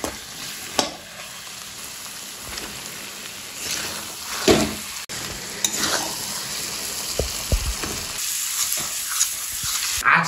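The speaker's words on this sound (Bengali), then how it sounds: "এবার মাটনটাকে ধরে ধরে কষাতে হবে।" Mutton stir-fried in a pan with spices, salt and Kashmiri chili: a steady close sizzle and frying hiss with scraping stirs and a few sharp clatters of the spatula, no voices.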